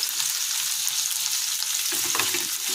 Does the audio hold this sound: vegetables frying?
yes